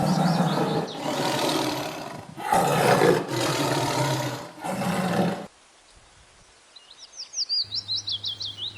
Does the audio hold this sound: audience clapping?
no